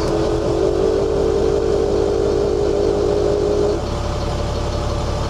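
A Caterpillar 3126B diesel engine runs steadily after an injection actuation pressure control valve repair, a loud close continuous drone whose tone drops slightly near the end.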